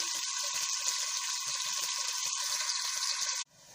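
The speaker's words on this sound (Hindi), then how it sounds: "आप प्याज को फ्राई कर लेंगे" Onions frying in a pan for kali mirch gosht salan, a steady close hiss and sizzle with faint scattered crackles, cutting off abruptly near the end; no one talks.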